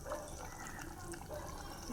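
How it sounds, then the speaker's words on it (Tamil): Water splashes into a simmering pot of garlic curry with tamarind, a faint short liquid gurgle and pour over quiet kitchen background. "தண்ணி சேர்க்க போகிறோம்"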